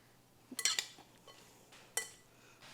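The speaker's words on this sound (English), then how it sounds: "Give it a nice gentle toss." Orange fennel salad dressed with olive oil and black pepper is tossed in a bowl, giving a few soft clinks of utensils against the dish in two brief clusters, quiet and close, with no voices.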